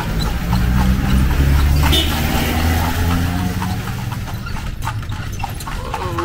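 A horse pulling a carriage clip-clops along a street in Vigan, Philippines, the hooves fairly close and mixed with traffic and street noise.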